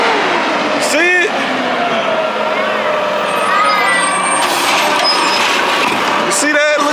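Garbage truck working out on the street nearby, a rumbling engine with hissing air brakes and squealing hydraulic whines rising and falling, a few short bursts standing out over the steady noise.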